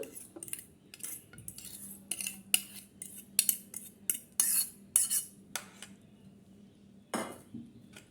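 A spoon spreading a sweet noodle mixture in a paper-lined pudding mould, with a rapid series of sharp metallic clinks and taps against the mould, close and uneven, with no voices.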